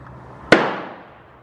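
One sharp, loud gunshot from a .300 Win Mag Ruger Precision Rifle on an outdoor range, a single blast followed by a long rolling echo that fades out.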